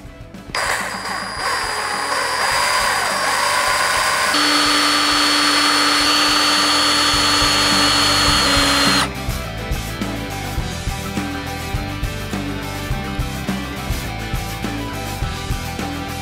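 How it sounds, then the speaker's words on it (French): A power drill bores with a loud, steady whine into a rusted, damaged screw, the pitch shifting partway through before the motor stops; clinking and handling noises follow at a lower level. "On va d'abord percer avec le foret correspondant"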